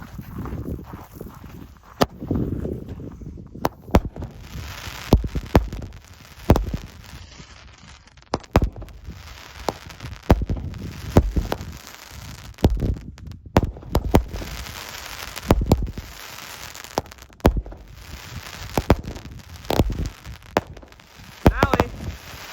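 A Miracle Fireworks Motocross Racing 16-shot cake fires a string of sharp outdoor bangs at uneven intervals, several followed by crackling, and gaps between them carry quieter ambient noise.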